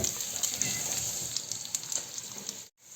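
Spices being tempered in hot oil in a pan crackle and sizzle with a steady bright hiss and small pops, close up, cutting off abruptly near the end.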